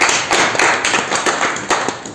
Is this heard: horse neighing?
no